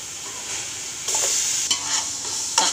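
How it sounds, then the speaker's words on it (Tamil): Onions and tomatoes sautéing in a pan for vegetable biryani: a short stretch of hissing sizzle with a few scraping strokes from a stirring spoon. "வெங்காயம் வந்து வதங்குது, கொஞ்ச நேரம் வதங்கட்டும்"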